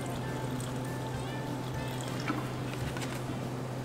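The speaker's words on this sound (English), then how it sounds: "So I'm going to pour a little bit more in." Liquid plaster pours steadily into a mold for casting a model, a soft continuous trickling over a low background hum, with no talking.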